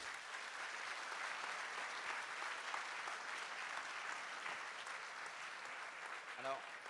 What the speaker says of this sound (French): je voudrais qu'on les applaudisse très fort